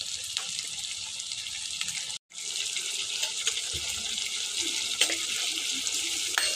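Potatoes sizzle loudly in a pan after green chili paste is added, a dense continuous frying hiss broken by one brief pause partway through.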